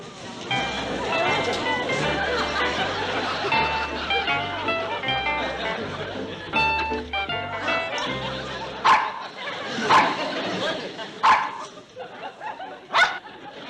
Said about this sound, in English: Let's have a closer look at that poodle, miss.